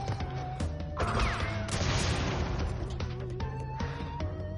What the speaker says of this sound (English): I just heard crates smashing there.